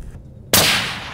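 Two hunters' rifles fired at the same instant at a coyote, heard as one sharp, loud outdoor report with a lingering rumbling tail after a quiet moment.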